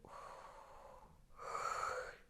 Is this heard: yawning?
yes